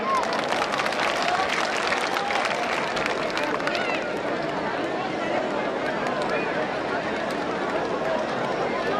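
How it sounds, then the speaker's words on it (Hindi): A crowd at a Shri Ganesh festival bhajan evening claps, with crisp, distinct claps at first settling into a steady, dense roar of applause, and voices murmur underneath. "मुझे ये कहना पड़ेगा कि इसके लिए तुम तालियां बजाओ रे।"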